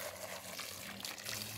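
Water poured onto heavy clay soil in a front-yard garden bed, a soft continuous splashing trickle, close and fairly quiet, with no talking.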